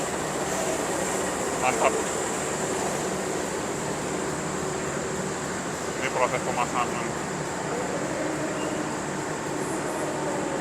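A CC 206 diesel locomotive, number CC 206-1388 of the Cipinang main depot, runs with a steady, continuous rumble and hum, with brief talk heard over it.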